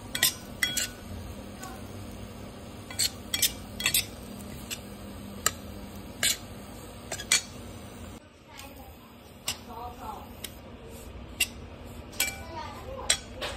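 Semolina and grated coconut are dry-roasted and stirred in a pan for jaggery-coconut modak, giving a string of sharp metallic clinks and taps of the spoon against the pan over a quiet kitchen background.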